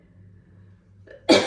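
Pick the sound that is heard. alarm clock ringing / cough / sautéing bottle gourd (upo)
cough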